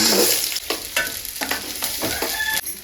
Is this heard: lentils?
yes